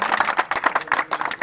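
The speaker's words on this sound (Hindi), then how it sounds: "जोरदार ताली से अभिनंदन और स्वागत" Applause and clapping for Ganga Singh being honoured at a kabaddi tournament, steady dense clapping from a crowd throughout, moderately loud with irregular swells.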